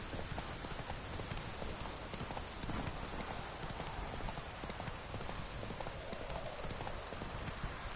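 Horse galloping in The Witcher 3, a fast, dense clip-clop of hooves running steadily throughout, mixed with a hiss like rain, with no talking.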